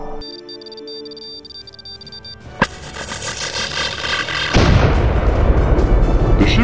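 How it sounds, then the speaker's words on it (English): Spaceship weapons fire in a space battle radio drama: a sharp blast cuts through a humming electronic drone, followed by a churning barrage of heavy booming explosions that swells louder toward the end. "Target that ship's weapons and fire."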